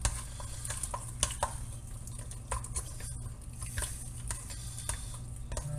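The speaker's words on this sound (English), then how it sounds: "Just kind of whisk it in there, guys. Give it a good stir." Cheese is whisked into a chicken and hashbrown casserole mixture, producing faint, soft wet stirring with scattered light taps and scrapes against the bowl.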